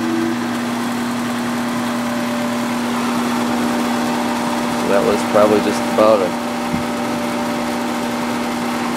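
Outdoor AC compressor running with a steady low hum and a slight rattle, someone talking briefly over it midway.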